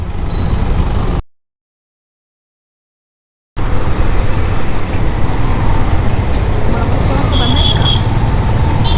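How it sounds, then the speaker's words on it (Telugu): Heavy road traffic in Hyderabad makes a dense, loud roar of passing cars and buses. The noise cuts out completely for about two seconds, then returns, with a brief horn-like tone near the end. "ఓయమ్మా చాలా డేంజర్ ట్రాఫిక్ ఉంది కదా"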